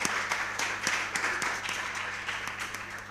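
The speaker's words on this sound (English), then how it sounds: "A round of applause for them." Modest applause from an audience for a junior high school team at a school quiz competition, moderately quiet and fairly steady with a few sharper claps, set against a constant low hum.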